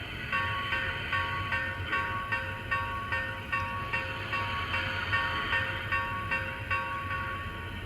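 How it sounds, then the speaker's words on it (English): A Lionel Lionmaster Challenger model train locomotive bell (2012) rings repeatedly at an even pace, bright clangs recurring roughly every half second over a soft mechanical hum. "Let's listen to the bell here."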